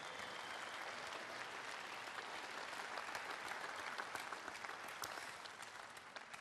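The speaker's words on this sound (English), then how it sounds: "Give them a round of applause to both of our finalists." Sustained audience applause for the two finalists at a 2018 Melbourne tennis tournament before the trophy presentation, a steady wash of many hands clapping throughout, moderately distant and even, easing off slightly at the end.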